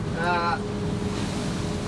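Stormy winter wind at sea buffets a lobster fishing boat, giving a constant, close roar of wind noise over rushing water. A short whistling tone rises near the start.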